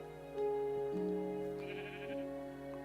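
Sheep in a video game bleat in a few wavering, drawn-out cries close by, one overlapping the next, with no talking.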